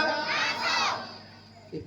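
A large crowd at a Ramayana gathering loudly shouts a Hindu religious slogan in unison, a swelling mass of voices that fades out, then a brief voice at the end.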